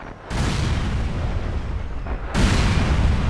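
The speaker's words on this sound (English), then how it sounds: "Ready, grenades! Fire!" Grenade blasts from the Soviet side in the war game World in Conflict, a loud near boom opening on a rumbling low roar that carries on, then a second heavy explosion near the end, no talk over it.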